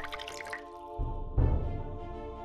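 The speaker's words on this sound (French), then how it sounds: "Dieu créa l'arrosoir" Water drips from a watering can in a short film, with a few soft drip sounds over a low tonal background and a fuller, louder patch partway through.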